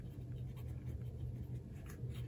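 Fountain pen with a fine steel nib, inked with Pilot Iroshizuku, moving over paper: a faint, close, steady scratchy glide with slight textured feedback, quiet throughout.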